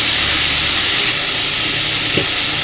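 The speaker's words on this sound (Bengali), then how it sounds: "মশলার সাথে আলুর সাথে জামরুলটাকে খুব সুন্দরভাবে একটু কষে নিতে হবে" Rose apple pieces fry with potatoes and spices in a pan, making a loud, steady, close hissing sizzle that runs unbroken throughout, with no talking.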